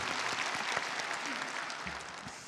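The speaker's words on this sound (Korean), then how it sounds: "우리 1년 동안 수고하신 우리 시온 성가대에게도 힘찬 격려와 축복의 박수 드리시겠습니다." A church congregation applauds its Zion choir at the end of a year of service, dense steady clapping throughout, with a faint voice briefly underneath.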